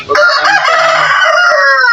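A loud, close rooster crow, one long drawn-out call filling the whole moment.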